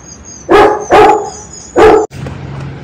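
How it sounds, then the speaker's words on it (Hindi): A pack of dogs, a German Shepherd and a Rottweiler among them, barks loudly nearby in three sharp separate bursts, followed by a low rumbling background. "ऊपर से पूरा पैक भौंक रहा है कि कहाँ जा रहे हो सारे"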